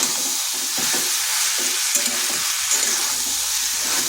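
Young jackfruit sautéing in a pan keeps up a loud, continuous sizzle. Repeated rhythmic scrapes of stirring run through it at close range.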